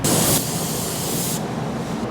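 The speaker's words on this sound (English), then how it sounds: "I started to spray, right?" A paint spray gun spraying sealer hisses steadily and loudly up close, a continuous airy spray that briefly swells at the start and softens near the end.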